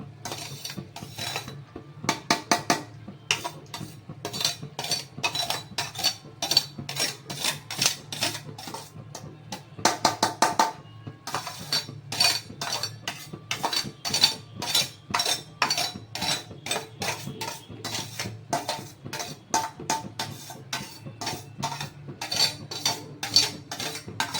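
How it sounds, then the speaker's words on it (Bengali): Fried rice with vegetables being stirred in a pan, a long run of brisk metallic scraping and clinking strokes from the spatula in an uneven rhythm, close and fairly loud, with no talking. "সবটা একসঙ্গে নাড়িয়ে সবটা মিশিয়ে দিতে হবে পুরো যে সবজিগুলো আছে তার সঙ্গে"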